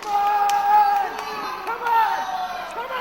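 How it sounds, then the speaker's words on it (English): A wrestling crowd at a 2006 All Star Wrestling versus FWA show cheers for Johnny. The cheering swells in the background beneath a commentator's steady talk. "you hear the fans once again cheering for Johnny."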